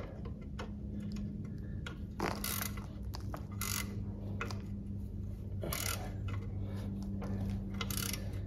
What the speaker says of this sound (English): And now we'll get our wrench,